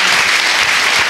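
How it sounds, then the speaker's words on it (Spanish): Congregation at a church wedding breaking into loud, dense applause, a continuous wash of many hands clapping with no talk over it. "vamos a dar un fuerte aplauso"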